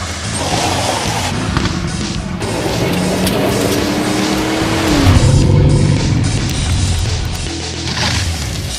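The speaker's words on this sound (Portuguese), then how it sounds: "Quando Tony sai para dirigir, as coisas podem ficar um pouco sujas." A NASCAR-style race car driven by Tony Stewart roars at speed in a steady, loud engine wash, with brief rising revs and tire squeal in the middle and no talking.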